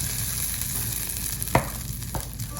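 Butter melting in a hot pan gives a steady close sizzle, with one sharp knock of a utensil near the middle and a softer tap shortly after.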